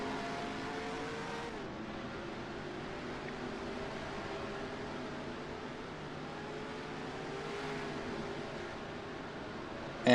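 Simulated race cars in a Daytona 500 sim racing game pull off pit road, engines droning in a steady, continuous hum at moderate level with a brief louder burst at the very end.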